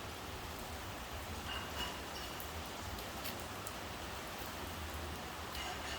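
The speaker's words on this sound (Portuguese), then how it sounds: "Ficou forte a chuva." Heavy rain falls in a dense, steady hiss outdoors, with a few faint brighter spatters now and then and no talking over it.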